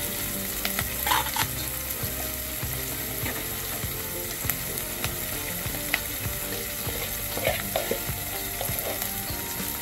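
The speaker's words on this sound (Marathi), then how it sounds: "तर आता मिनिटभर कांदा भाजू द्या।" Onion frying in a pan for a dal kanda, a steady sizzle under a regular mechanical ticking rhythm with a few brighter crackles scattered across the stretch.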